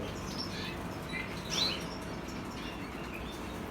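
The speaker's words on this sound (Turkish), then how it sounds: "Her yerde kuşlar var." Canaries chirp in a breeder's aviary, sending out faint, scattered tweets over a constant hiss of background noise, with one slightly brighter call in the middle.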